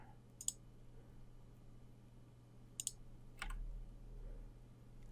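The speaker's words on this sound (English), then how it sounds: "If I grab all of those and then Shift and click each one" Computer mouse clicks while selecting items in character animation software, three sparse sharp clicks spaced apart over quiet room hum.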